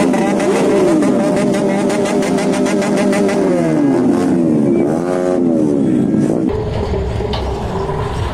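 Many superbikes riding around on a Republic Day group ride, a continuous loud roar of engines with rising and falling revs as bikes pass close by.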